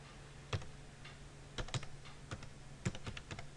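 Sparse keystrokes tap on a computer keyboard while a command is entered, a handful of separate clicks in small clusters over quiet room noise, with no speech.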